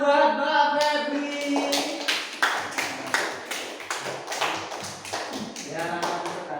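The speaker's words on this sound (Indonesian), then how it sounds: "Kasih tepuk tangan buat Mbak Febri." A classroom of children claps hands in a loose, uneven burst of sharp slaps, fairly close, while a voice speaks at the start and again near the end.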